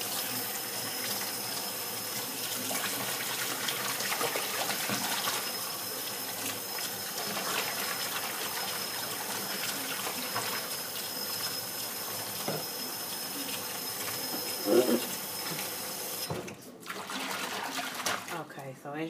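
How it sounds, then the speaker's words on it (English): Lukewarm water runs from a tap into a container as it is mixed with silicone, a steady hissing rush that cuts off abruptly near the end, with a person talking over it. "So right now I am adding lukewarm water"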